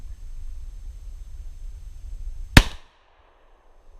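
A Remington 870 shotgun fires a single Federal Flite Control #1 buckshot round at an outdoor range, one sharp loud blast that cuts off abruptly after a quiet low rumble.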